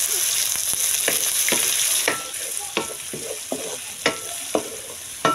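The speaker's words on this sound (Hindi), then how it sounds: "इन सबको मैं भून लेती हूँ" Cashews, chopped tomatoes and ginger sizzle as they sauté in a hot pan, a steady frying hiss broken by about a dozen sharp scraping stir strokes spaced roughly half a second apart, close and clear with no talking.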